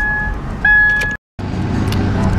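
Steady road rumble inside a moving car, loud and close, with a high electronic tone at the start and a brief dropout to silence midway.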